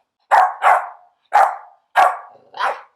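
A young female puppy barks five times in two quick pairs and a single, sharp yappy barks with short whiny tails, loud and close, with no one talking.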